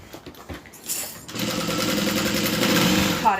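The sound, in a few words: sewing machine stitching over a crossbody bag strap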